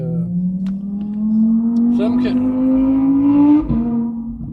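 A car speeds past, its engine note rising steadily as it approaches and roars by loudly like a drag racer, then drops away at the end; no one talks over it.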